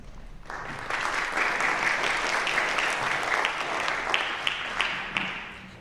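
An audience in a church briefing breaks into sustained applause that starts abruptly and holds steady for several seconds as a speaker is welcomed to the front.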